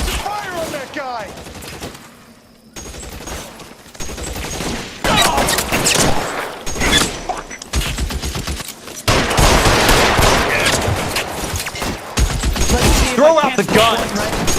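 Dense bursts of gunfire in the video game L.A. Noire: rapid automatic volleys and single cracks, loud and close, mixed with shouting voices and background game sound.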